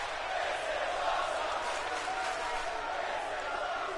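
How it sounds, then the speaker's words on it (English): A Kansas City crowd at a live pro wrestling show cheers and applauds, a broad, steady wash of noise heard from a distance, under a commentator's voice. "KC crowd loving this action."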